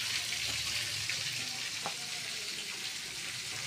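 Steady hiss and crackle of tilapia frying in hot oil, with a faint clink partway through and no talking.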